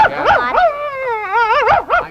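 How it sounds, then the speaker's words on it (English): A dog produces a short run of high, wavering yips and whimpering howls, close and loud, with no talk over it. "Why don't you just bark and say thank you to everybody?"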